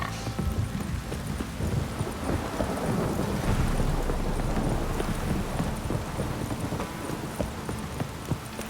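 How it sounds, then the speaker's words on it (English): Heavy downpour with rolling thunder, a dense, steady roar of rain filling the whole clip, with low rumbles swelling underneath and no voices. "This downpour's a bastard"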